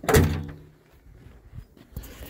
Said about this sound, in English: Doors open like they should.